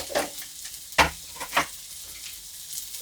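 Spices with turmeric powder frying in a pan and being stirred: a low sizzle broken by a few scraping strokes of a spoon, close by with no speech.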